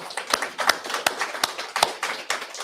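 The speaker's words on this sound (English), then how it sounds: "Let's clap it up for Wendy Day" Scattered clapping from a small conference audience, sharp individual claps with a few hands standing out clearly, close and uneven in rhythm rather than a full ovation.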